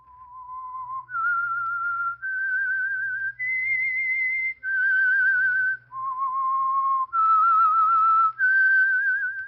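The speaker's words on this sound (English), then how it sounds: "That whistle is your signal for the Signal Oil Program, The Whistler." A lone person whistles a clear, bright theme tune for the radio program The Whistler, eight sustained notes stepping up and down in a slow, deliberate melody against near silence.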